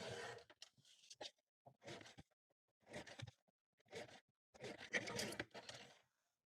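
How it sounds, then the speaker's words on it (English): A paper trimmer slices cards apart nearby in a series of short, sharp scraping swipes, about seven separate cuts with quiet gaps between them, faint and without talk. "I'm just going to grab my trimmer and I'm going to cut"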